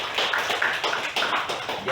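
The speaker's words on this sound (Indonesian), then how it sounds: "Mari beri tepuk tangan." A classroom group applauds after a student group's presentation, with a short burst of scattered, fairly light hand claps lasting about two seconds.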